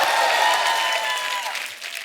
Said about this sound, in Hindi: एक बार जोरदार तालियां किशोर दा के नाम पे।